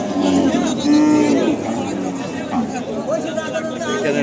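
Cattle low loudly at a rural cattle market in Charmonai, Barishal, a drawn-out moo rising over a busy crowd babble with nearby people talking throughout.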